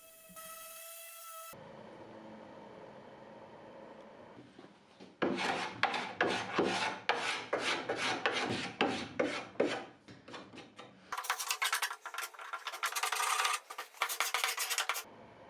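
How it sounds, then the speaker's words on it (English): Rhythmic rasping strokes of a carbide scraper on wood of an antique apothecary cabinet, in repeated bursts separated by pauses, close and fairly loud. "scrape a bit with my carbide scraper and then sand the rest away"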